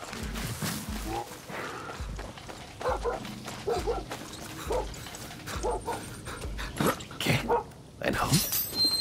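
A dog in the video game Far Cry 6 barks repeatedly in short, loud bursts with yips and whimpers, over steady game ambience and background noise.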